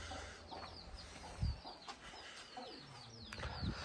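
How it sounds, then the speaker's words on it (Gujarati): Farm roosters and chickens clucking and calling in an outdoor yard, scattered bird calls over a steady low rumble of background noise, with a louder burst partway through. "બતાવું તમને આપણા કુકડા બધા."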